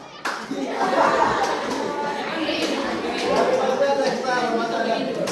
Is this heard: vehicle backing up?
no